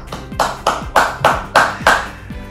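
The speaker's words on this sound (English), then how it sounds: "Please join me in a virtual round of applause congratulating Junior Achievement on a job well" A handful of sharp, evenly spaced claps ring out one after another, about six distinct strikes with short decays, close and moderately loud, like a small virtual round of applause at a livestreamed Junior Achievement event.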